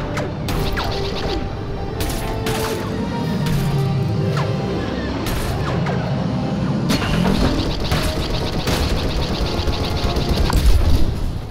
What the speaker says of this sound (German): Das hat mich bei der Explosion mitgerissen.